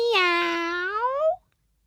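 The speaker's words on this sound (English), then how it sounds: "She can only say" A cat gives a single clear, close meow, drawn out for over a second with a falling then rising pitch, followed by silence.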